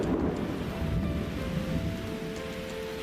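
A thunderstorm with steady heavy rain and rumbling thunder, the roar continuous and fairly loud throughout with no voices.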